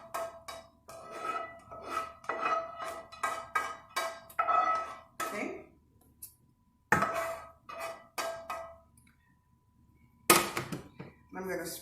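Food scraped from a pan into a casserole dish for shepherd's pie, with a rapid series of close metallic scrapes and clanks, a pause, then more scraping and a hard knock.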